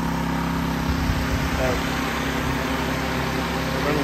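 A Predator 1400 portable generator running with two fans plugged in, its engine giving a steady loud close hum with low vibration that holds even through the whole stretch, under a voice.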